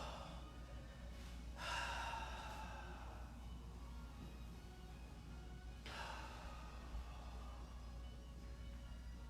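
A person slowly exhales during a yoga breathing exercise, two long soft breath sounds several seconds apart over a steady low room hum.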